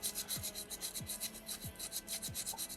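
Sandpaper folded small rubs back and forth on the toes of a small soapstone bear carving, a close, quiet rasp repeating in a steady rhythm of short strokes.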